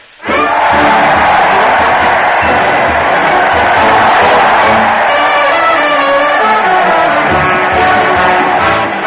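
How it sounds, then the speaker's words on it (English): A large radio-show studio audience cheers, whoops and yells continuously at full volume for the Fred Allen Show's Town Hall Tonight parade, with no speech over it. "listen to that crowd cheer Fred Allen as he heads his weekly parade to the old Town Hall"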